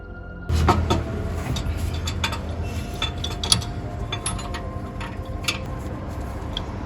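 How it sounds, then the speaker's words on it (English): A tie rod tool tightens the inner tie rod on a 2012–2018 Nissan Altima 2.5L, giving close metallic clicking and ratcheting under a steady mechanical hum, with one sharper clack midway and no talking. "tighten it with a tie rod tool."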